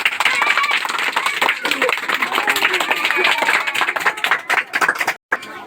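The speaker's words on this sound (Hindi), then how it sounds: "इसके लिए ताली बजाओ।" Children clapping together in a kids' subtraction quiz, a loud, dense burst of hand claps close by that continues for several seconds before stopping abruptly.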